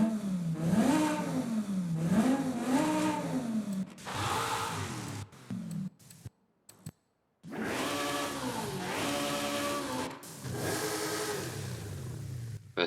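A 7.4-litre twin-turbo V8 car engine in the video game Forza Horizon 5 revs repeatedly, pitch climbing and falling in loud surges, with a brief cutout before it roars back up again.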